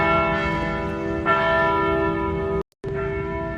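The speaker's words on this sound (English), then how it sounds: "That's not a normal bell ringing at 8:30." A church bell rings at 8:30 in the morning, heard from outdoors on a walk, with sustained overlapping strikes whose ringing tones hang in the air, loud and continuous, with a brief cut near the end.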